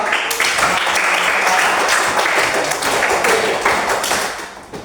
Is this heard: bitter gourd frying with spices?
no